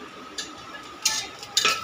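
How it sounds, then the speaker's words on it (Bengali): Onions and garlic fry with asafoetida in a pan, a low sizzle under three quick scraping stirs that grow louder toward the end. "এটা পেঁয়াজটা একটু ভাজা ভাজা হয়ে যাক,"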